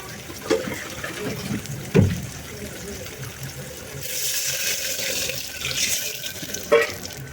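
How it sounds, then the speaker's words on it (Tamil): Water runs and splashes steadily into a cooking pot for sambar, with a few clanks and knocks of cookware and a brief burst of louder flow near the end. "ஃபஸ்ட்டு தண்ணி ஊற்றிக்கோங்க"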